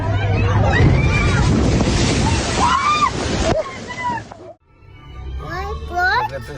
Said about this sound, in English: Look at this big wave coming. It's a monster.